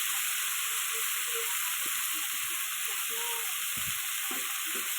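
Spice masala fries in a pan for a Bengali bata fish recipe with pumpkin and potato, a steady, even sizzle and hiss running throughout with occasional soft stirring knocks.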